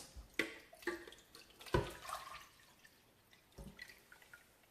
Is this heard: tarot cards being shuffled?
no